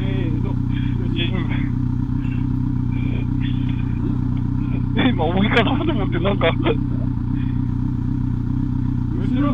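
A motorcycle engine idles at a campsite on a touring trip, a steady rumble running under close conversation, with a few clattering knocks partway through.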